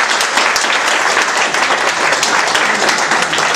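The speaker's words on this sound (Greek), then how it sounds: "Ένα θερμό χειροκρότημα παρακαλώ." Warm, loud audience applause at a pie-cutting celebration held by an association, a dense, continuous patter of many hands clapping with no break.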